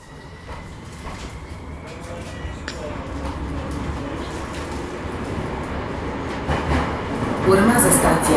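Bucharest metro M2 subway train running underground, a loud, steady rumble and roar of the carriage with rail clatter building toward the end.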